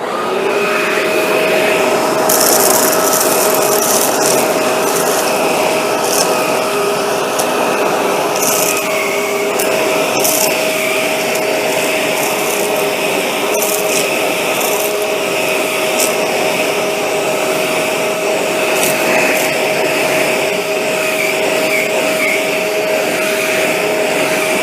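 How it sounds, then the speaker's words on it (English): A Shark Rotator NV752 vacuum's motorized tool cleaning up pet hair, a steady loud motor whine with a constant tone and a brushing, scrubbing rasp as it moves back and forth. "this will give you an idea of the cleaning ability of this motorized tool"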